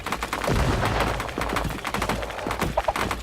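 Rapid gunfire in a competitive video game match as a player shoots out an opponent's builds, sharp bursts and repeated shots crackling close and loud across a few seconds, with no voices.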